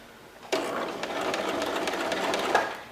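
A sewing machine running a zigzag stitch over cord to make a fabric basket, starting abruptly and stitching steadily at close range with a fast whirring rhythm for a couple of seconds.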